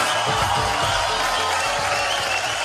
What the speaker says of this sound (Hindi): आप सबके लिए जोरदार तालियां पहले तो होनी चाहिए।